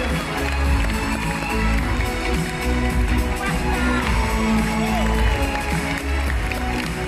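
An audience at a martial arts gala night applauds and cheers, a steady wash of clapping and crowd noise with raised voices blended in, close and loud throughout.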